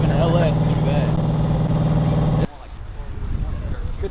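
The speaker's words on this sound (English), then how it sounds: "What exhaust is that? It's like an HKS" A car with an LS V8 engine and an HKS-style exhaust idles loud and close with a steady lumpy rumble for about two seconds, then cuts out abruptly, leaving quieter background noise and people talking.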